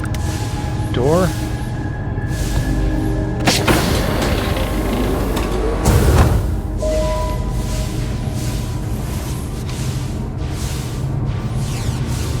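A door slides open in Starfield with a mechanical, creaking whir that swells for a couple of seconds over a steady low hum, while a voice talks over the gameplay.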